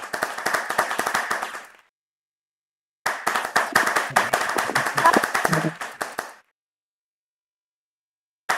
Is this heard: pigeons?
no